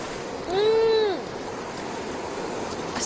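The Irtysh River flowing makes a steady, even rush of water throughout, with a brief whistle-like tone rising and falling early on.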